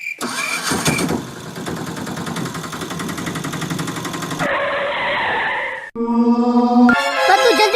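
A tractor engine cranks and catches into a rough, loud mechanical clatter that runs for several seconds. Shifting, harsher engine and scraping sounds follow near the end.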